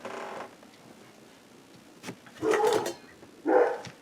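A dog lets out a few short barks and yips in separate bursts, a faint one early and two louder ones near the end, with quiet between them.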